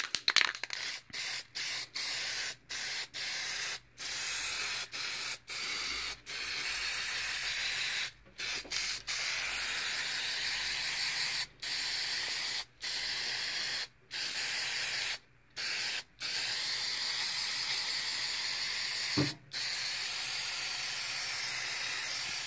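A spray paint can hisses black paint over a stencil in long continuous bursts, each broken by short pauses, close and loud with a faint rattle at one point.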